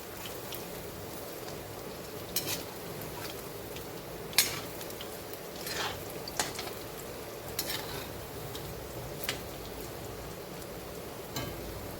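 Mung dal pakoras frying in oil as they are turned, a constant soft sizzle broken by sharp scraping clicks of a spatula against the pan, close and without talk.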